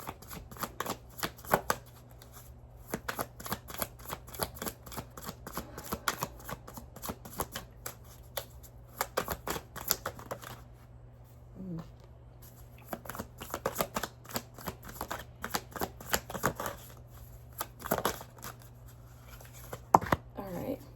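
Tarot cards shuffled by hand in a steady run of crisp riffling flicks and slaps, close and fairly quiet, with brief pauses between bursts and no talking.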